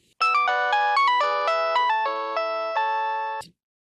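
A phone rings with a bright electronic melodic ringtone that plays as a run of clear tones for about three seconds and then stops abruptly, with silence before and after.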